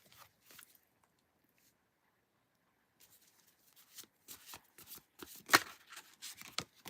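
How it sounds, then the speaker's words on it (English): Tarot cartomancy cards being shuffled by hand, a quiet patter at first, then a denser run of crisp riffling flicks and soft slaps that grows louder toward the end, with no talking. "I'm just going to shuffle here."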